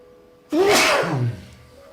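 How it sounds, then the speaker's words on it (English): One loud, close sneeze: a sudden sharp burst of breath that trails off into a short voiced tail, with nothing else around it. "Oh, I'm gonna sneeze a few more times,"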